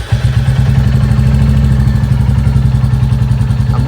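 A Bullet motorcycle with a new silencer runs steadily, its close, loud engine thumping in an even, rapid low beat with a slight clatter and no voices.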